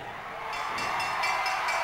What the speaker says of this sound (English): I can't even hear myself think it's so loud. The fans are going crazy.